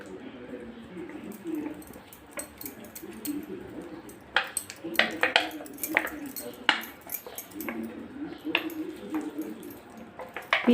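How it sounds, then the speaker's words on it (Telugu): A metal plate is scrubbed by hand, giving soft rubbing at first and then a run of sharp scraping and clinking strokes that grows louder and busier, with a voice speaking now and then. "ఇది ప్లేట్ ఎలాగని చూడండి. ఇది ఒకసారి దోముతాను చూడండి."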